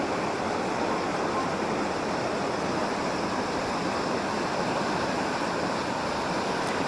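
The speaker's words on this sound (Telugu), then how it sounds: "నీళ్ళైతే బాగా ఎక్కువగానే ప్రవహిస్తున్నాయి రెండు మూడు గేట్లు కూడా ఎత్తేస్తున్నారు ఇక్కడ" Fast, heavy river flow below a dam with two or three gates opened, a steady broadband rush of water that stays loud and constant throughout, with no voices.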